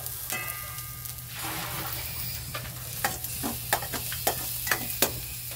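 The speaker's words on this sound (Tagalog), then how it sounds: "Gisa-gisa muna natin ang ating sibuyas bawang." Onion and garlic sizzle steadily in a hot pan while a utensil stirs and scrapes, sharp clatters growing more frequent toward the end, with a low hum running underneath throughout.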